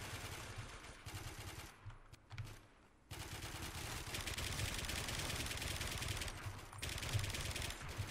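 Gunfire in the first-person shooter Warmode, rapid automatic bursts of shots that stop briefly, then return as sustained heavy firing over ambient game noise.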